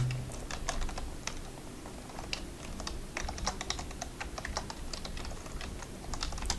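Steady typing on a computer keyboard, a fast irregular run of light key clicks that carries on throughout at close range, with no talking.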